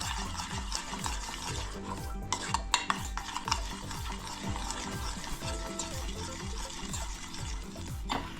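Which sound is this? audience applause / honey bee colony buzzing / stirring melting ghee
stirring melting ghee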